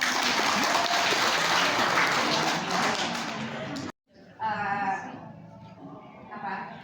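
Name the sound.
applause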